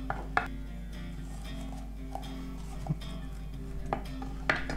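A knife chops capsicum on a cutting board in about half a dozen separate, spaced strikes over a low, steady background hum.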